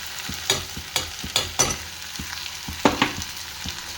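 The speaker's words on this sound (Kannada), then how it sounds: "ಸೊ ಸಿಮ್ಮಲ್ಲಿ ಇಟ್ಕೊಂಡೆ ಫ್ರೈ ಮಾಡ್ಕೊಳ್ಳೋಣ." Spice powder frying with garlic and pepper rice in a pan over a low flame: a steady soft sizzle broken by repeated scraping and stirring strokes, up close and with no voices.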